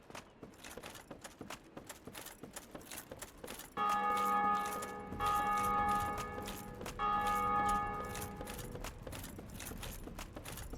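A bell in Dark Souls Remastered rings in two long, sustained tolling strikes that sound loud and resonant. Clattering hoof-like footsteps come before them and continue beneath the fading tone.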